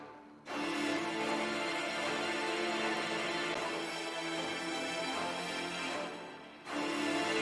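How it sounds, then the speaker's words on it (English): Layered staccato and low sustained string notes from a dark trap beat in FL Studio play together as a dense, steady orchestral swell, pausing briefly before returning, with no talking. "And now if I play these 3 strings so far,"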